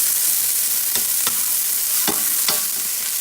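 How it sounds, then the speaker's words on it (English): Onion and celery sautéing in a pan over medium-high heat, a steady close sizzle with a few sharp scrapes of stirring spread through. "we're going to first add our onion and celery. And we're going to saute those until they get nice and soft."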